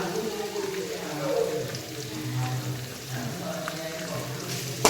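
Mixed vegetables sautéing together in a pan for Malayalam-style upma with semolina, a soft steady sizzle and crackle running throughout, with faint scraping and low background hum.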